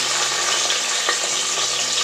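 Loud, steady sizzling of green chillies frying in hot oil, a continuous crackling hiss close by with no voices.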